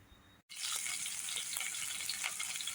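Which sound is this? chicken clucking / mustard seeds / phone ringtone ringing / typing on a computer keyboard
mustard seeds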